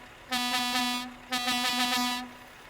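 Truck air horn in Euro Truck Simulator 2, sounding two loud sustained blasts with a short gap between them, nearby and with no talk over it.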